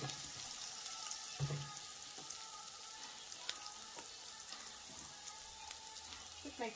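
Mustard, cumin and fennel seeds with ground ginger sizzling in a pan for okra in tamarind gravy, a faint steady frying hiss with a few soft stirring knocks, no talking.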